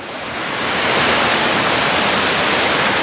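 Awao Falls in Monkayo, Davao de Oro pours in a steady, loud, broadband roar of falling water that stays constant from start to finish, with no other sounds rising above it.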